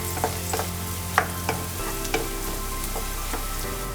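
About 150 grams of thinly sliced onions fry in two tablespoons of oil in a kadai, a constant close sizzle under a steady low hum, punctuated by several sharp clinks and scrapes of a stirring utensil.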